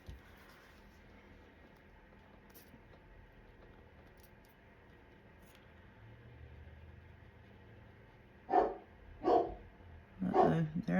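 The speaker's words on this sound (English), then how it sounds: "There goes Snoop barking at them." A dog barks in short outdoor bursts at road-scraping vehicles, three or four loud barks near the end after a quiet stretch with faint low rumble of machinery in the distance.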